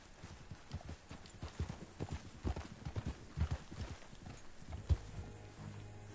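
Horse hooves clip-clop along at a walking pace in Red Dead Redemption 2, a steady uneven rhythm of hoof strikes at moderate distance, fading toward the end with a faint hum beneath.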